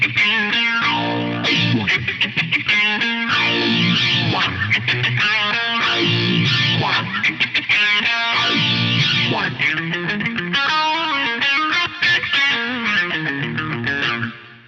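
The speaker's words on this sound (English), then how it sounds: "you've got that auto wah thing going on straight away. And then you put the distortion on" Guitar played through a KORG A3 with auto wah and distortion, giving a funky, rhythmic riff with a sweeping, vowel-like filter on each note, loud and continuous for about fifteen seconds.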